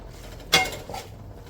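A spoon knocks once against a cooking pot while chicken parts are stirred, giving a single sharp metallic clink that rings briefly before fading into quiet background noise.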